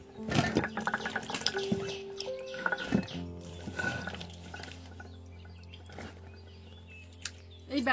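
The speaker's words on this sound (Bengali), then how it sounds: "এবার আমি সবজিগুলো ধুয়ে তুলে নেবো।" Vegetables being washed in water, splashing and trickling with clinks of a vessel, busiest at the start and thinning into quieter drips and a low hum.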